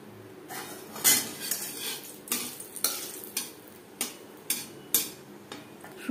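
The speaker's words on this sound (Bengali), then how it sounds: "শুকনো লঙ্কা লালচে করে ভেজে নেওয়ার পর" Dried red chillies fry in refined oil in a pan with a soft sizzle beneath a string of sharp metallic scrapes and clinks from a stirring utensil, close and rhythmic, no speech.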